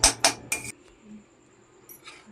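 A fried luchi is set down on a metal plate and shifted around. Three sharp metallic clinks come close together, followed by quiet with a faint scrape.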